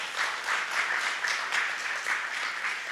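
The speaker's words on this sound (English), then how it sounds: "A round of applause." Audience members at a talk on leadership clap in steady, moderately loud applause for the speaker, with an even flow of hand claps and no speech.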